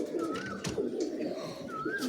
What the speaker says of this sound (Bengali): এটা কিন্তু এলাহাবাদি পায়রা